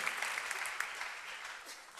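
Congregation applauding at a church service, a steady wash of many hands clapping at moderate distance, continuous and fairly even throughout with a faint murmur of voices underneath.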